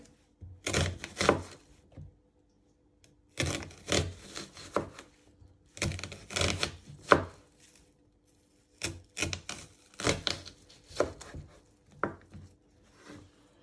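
Knife finely slicing onion into thin strips on a board, quiet bursts of rapid chopping strokes in several separate runs with short pauses between them and no talking.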